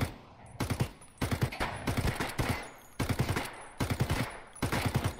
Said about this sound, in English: We're both shooting at him.